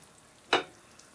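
A short burst of sizzling as butter and oil hit a hot frying pan while cod is being pan-fried, one brief crackle in an otherwise quiet kitchen.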